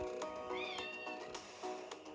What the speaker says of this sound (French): Oui, mon chat.